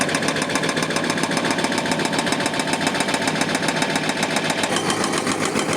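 Heavy construction machinery runs steadily through roadworks on Lenin Street in November, a continuous engine drone with rapid rhythmic pulsing like a breaker hammering, fairly close and loud with no talk.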